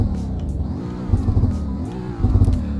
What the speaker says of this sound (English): That's the startup for it, and this car rumbles.